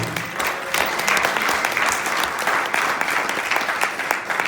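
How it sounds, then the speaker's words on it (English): Lecture audience at a vegetarian society event breaks into steady, dense applause with many hands clapping together at an even level throughout. "Give Nicole a big round of applause."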